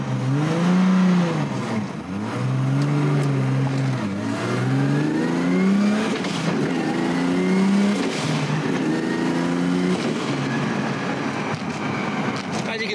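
A single-throttle RB26-powered Nissan R32 Skyline making around 1000hp pulls through suburban Sydney traffic, its engine note rising and falling in repeated loud revs with shifts between, steady and close throughout.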